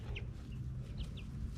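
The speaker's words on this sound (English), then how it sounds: "This is my favorite chicken." Hen clucking softly in a backyard flock, a few short, faint calls over steady low background noise.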